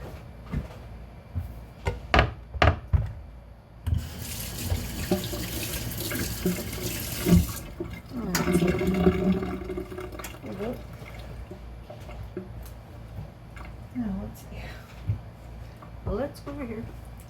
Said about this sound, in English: I'm just going to rinse my hands here.